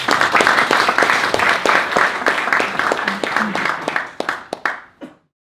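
Applause from a seated audience welcoming a lecturer at a church federation human-rights talk, steady dense clapping that thins into a few scattered claps and stops near the end.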